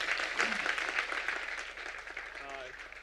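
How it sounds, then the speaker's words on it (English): An audience at a graphic design symposium claps to welcome a speaker, a moderate wash of applause with some voices mixed in underneath as it tapers. "can we give a warm round of applause for Mr. Thomas Thwaites?"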